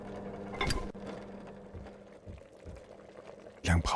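Water heats in a pot on a kitchen stove, giving a low, steady bubbling hiss, with a few louder clunks and pouring sounds and a voice briefly speaking.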